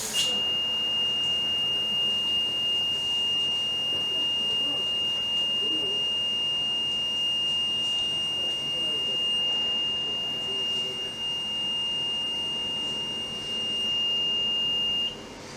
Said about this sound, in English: It is now clear that all 5 detector heads are working successfully and are ready to be delivered to the customer.